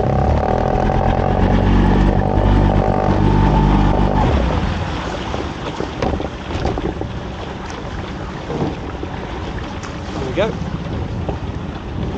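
A lobster boat's engine drones steadily with water and wind noise, loud and close, easing slightly after a few seconds while faint voices come and go.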